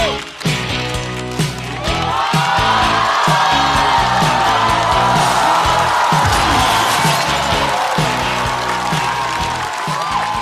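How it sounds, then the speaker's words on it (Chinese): A stand-up comedy audience greets a comedian taking the stage with loud applause, cheering and whoops, while walk-on music plays underneath, building after a brief start and holding steady throughout. "热烈的掌声送给张俊"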